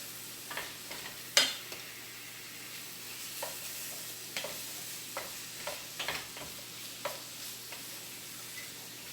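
A teaspoon of minced garlic goes into a pan for a pumpkin coconut shrimp curry, giving a soft, steady sizzle with a sharp clink early on and scattered light taps and stirring scrapes, with no talk.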